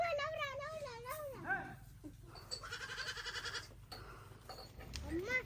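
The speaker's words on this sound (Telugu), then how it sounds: "ఏ క్రియాంష్ మేకలు వస్తాయి" Goats bleat with wavering, drawn-out cries nearby, several calls in a row, while children's voices chatter in the background.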